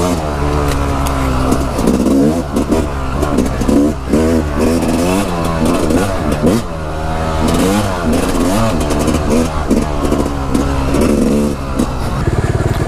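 A 450cc dirt bike engine revs loudly and continuously up close, its throttle rising and falling in repeated bursts with a rough, clattering mechanical edge throughout.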